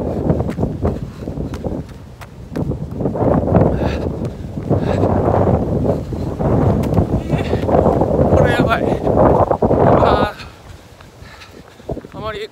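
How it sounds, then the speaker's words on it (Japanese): Strong wind blows steadily outdoors, a loud, continuous rushing roar buffeting the microphone for most of the stretch before easing near the end, with voices faintly underneath. "結構風吹いてます。"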